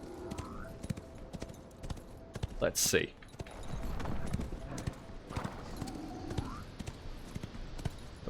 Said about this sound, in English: Don't exactly know what the horse just decided to step on